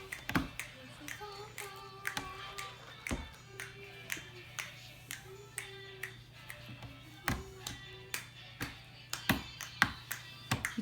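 A small child claps their hands indoors, with sharp, close, repeated claps in uneven bursts all the way through and soft tonal hums and chirps in the background.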